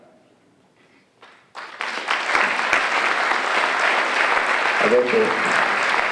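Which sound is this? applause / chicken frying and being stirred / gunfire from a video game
applause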